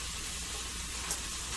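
Bacon-wrapped meat sears in a very hot Teflon pan, a continuous bright, crackling sizzle at close range with a single louder pop partway through and no talking.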